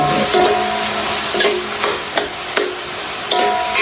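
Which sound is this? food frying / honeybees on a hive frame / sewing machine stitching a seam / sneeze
food frying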